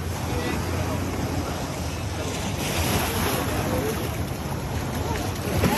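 Sea surf off Isla Mujeres near Cancun, Mexico, rolls in as a continuous loud wash mixed with heavy wind noise on the microphone, with no break in the roar.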